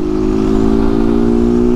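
A 160 cc motorcycle with its original exhaust filter removed revs steadily at close range, a loud, raspy engine drone holding a constant pitch throughout with no talking.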